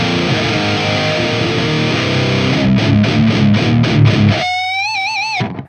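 Heavily distorted electric guitar through a VH140c amplifier on channel A with the controls at noon, chugging dense palm-muted riffs and rapid picked bursts, then ending on a wide bent, wavering lead note, loud and close.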